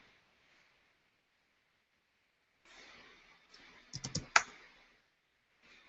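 A short word typed on a computer keyboard, a few faint clicks followed by a brief cluster of sharper keystrokes, then quiet.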